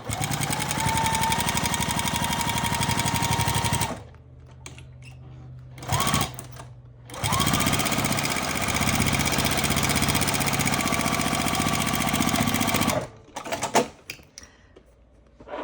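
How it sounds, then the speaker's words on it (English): A sewing machine stitches down a folded quilt binding edge on a small quilted project keeper, running in steady motor bursts with brief pauses between, loud and close with no talking. "And then you're going to sew it down."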